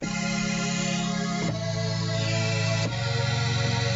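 A sustained retro 8-bit synth pad from an Amiga plays a slow chord riff, buzzy and bright, shifting chords twice, loud and alone.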